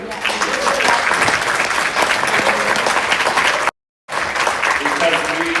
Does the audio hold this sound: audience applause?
yes